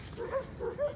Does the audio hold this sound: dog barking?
yes